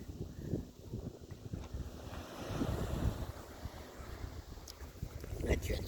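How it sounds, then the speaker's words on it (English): Ocean waves wash against the shore in steady, broad surges, with gusts of wind buffeting the microphone; no one speaks. "Take a break from my talking and you can enjoy the waves for a bit."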